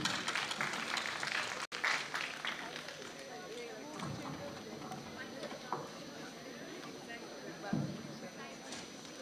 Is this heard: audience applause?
yes